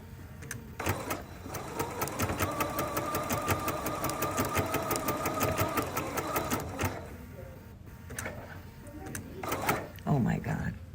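A sewing machine fitted with a blind hem foot stitches a blind hem in a fast, rhythmic whir of needle strokes for several seconds, then pauses and restarts briefly, with people talking over it.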